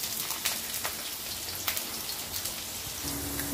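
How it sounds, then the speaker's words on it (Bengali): Chopped potatoes and two green chillies frying in hot oil for a watermelon rind dish, a soft steady crackling sizzle with scattered pops, close and quiet with no talk. "আলুটা আমি লাল লাল করে ভেজে নেব।"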